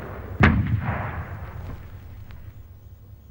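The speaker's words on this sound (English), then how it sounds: "Trench mortars were developed to lob high-explosive bombs from trench to trench." A trench mortar fires a high-explosive bomb with one sharp, loud boom near the start, followed by a long rumbling decay and faint background noise.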